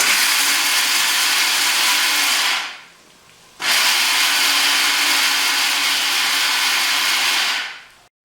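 A close, loud electric grinder whirs steadily as it grinds wheat for Hyderabadi mutton haleem. It runs alone, cuts out for about a second, then starts again and runs before stopping.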